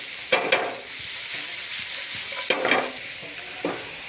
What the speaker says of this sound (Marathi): त्याला 1-2 मिनटं मोठ्या आचेवर आपल्याला फ्राय करून घ्यायचं आहे मस्त